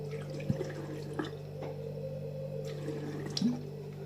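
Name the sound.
water poured out of a bottle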